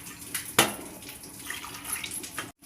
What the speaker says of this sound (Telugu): ఇప్పుడు దీంట్లో ఉడికించుకోవడం కోసం వాటర్ పోయాలి.